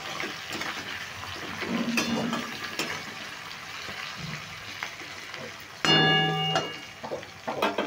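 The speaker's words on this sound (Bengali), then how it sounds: "নুনটা দিয়ে একটু নাড়াচাড়া করে নিচ্ছি।" Salted capsicum and onion are stirred as they fry in a pan, with a continuous sizzle and intermittent spatula scrapes close by, then a louder burst of sizzling clatter near the end; no talk.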